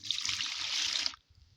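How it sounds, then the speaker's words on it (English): Water pours steadily into a bucket, one liter for mixing liquid soap, making a close hiss-like splash for about a second before it stops abruptly, with faint low bumps underneath. "Then I'm going to add my water, 1 liter of water as usual."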